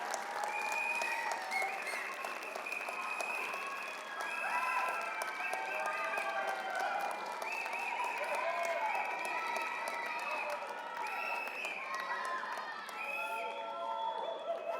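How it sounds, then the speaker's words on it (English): Graduates at a spring graduation ceremony applaud their supporters, with sustained clapping from a large crowd under overlapping voices, scattered cheers and children's shouts throughout. "I'd like to ask the graduates to give a big round of applause to all the folks who have come here to support you"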